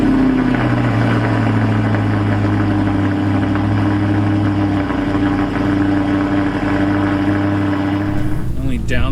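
An Audi R8 V8 cold starting in a 12th-floor parking garage on a rainy day, loud and close, settling into a steady rumbling idle with a deep low drone. A brief rustle comes near the end.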